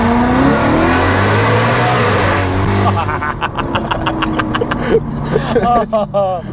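Loud, close engine roar from a BMW E92 M3 with an aftermarket exhaust, sustained at first, then breaking into choppy bursts and crackles as the revs drop, with voices talking over it.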